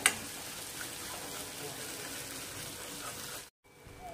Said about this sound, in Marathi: हे बघा असं तेल सुटेपर्यंत छान याला असं परतून घ्यायचं आहे।